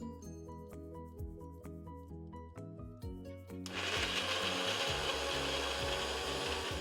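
For the first few seconds a tapping, clattering mechanical rhythm plays. Then an electric blender starts up loud and runs steadily, blending iced coffee with an extra ice cube until creamy.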